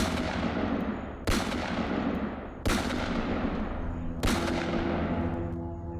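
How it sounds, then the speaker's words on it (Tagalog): Gunfire used as a sound effect in a horror audio drama: four heavy shots spaced about a second and a half apart, each a loud sharp crack with a long reverberating tail over a dense background. "sunod-sunod ang putok ng baril na tumama sa kanyang likuran"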